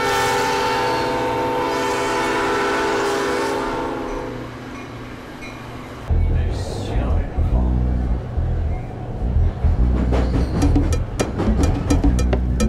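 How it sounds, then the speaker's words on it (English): A train passes near an outdoor festival crowd, its rumble and rail noise loud and steady, then giving way to a rougher, clattering stretch with sharp repeated knocks toward the end; talk is heard around it. "Here's a train, but it's going the other way."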